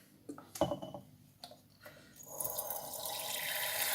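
White vinegar poured into a jar of onions for pickling: a few soft clinks and splashes first, then a steady trickle of liquid that grows louder and keeps running to the end.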